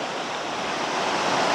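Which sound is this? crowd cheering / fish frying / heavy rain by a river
heavy rain by a river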